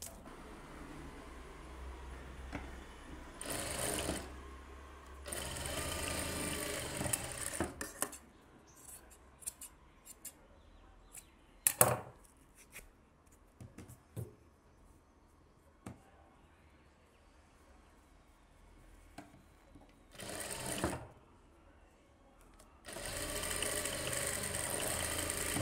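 A sewing machine stitches the back neck of a blouse in several short bursts, each a few seconds long, with quiet handling and occasional sharp clicks between them.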